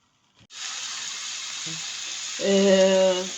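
Onion, bell pepper and tomato fry in a pan with a steady, bright sizzle that swells louder toward the end as they are stirred, with a soft clink of the spoon partway through.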